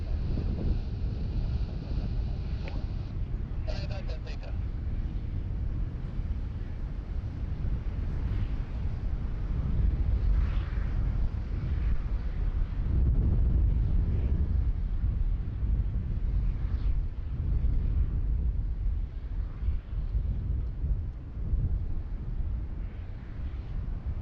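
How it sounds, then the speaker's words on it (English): Strong, gusty wind at Sydney Airport buffets the microphone with a continuous low roar that swells and eases throughout, with no talking. "this wind is really starting to pick up now"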